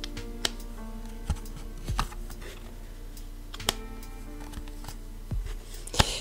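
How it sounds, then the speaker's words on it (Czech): Tarot cards being shuffled by hand, a soft papery riffle and scattered light taps and flicks spread through the stretch, fairly faint and close, with no talking. "A já se tady budu ještě chvilinku míchat karty."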